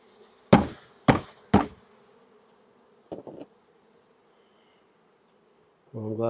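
Honeybees in an observation hive hum faintly throughout. Three loud knocks and a couple of lighter taps break in, then a louder buzzing swells up at the end.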